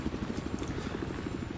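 A helicopter in Battlefield 4 gameplay on a train-yard map, its rotor chopping in a steady fast pulse over a continuous turbine whine, moderately quiet and alone without voices.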